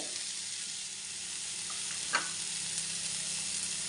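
Chopped tomato going into a pan of sizzling cauliflower masala gives a steady, hissing fry that holds all the way through, with one brief stir or clatter in the middle, close up and with no talking.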